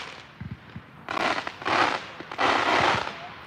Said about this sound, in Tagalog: Ayan, my fireworks.